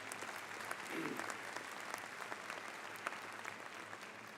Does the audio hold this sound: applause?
yes